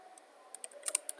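Light clicks of a computer keyboard tapped in a quick, uneven burst of several keystrokes, close and fairly quiet over a faint hum.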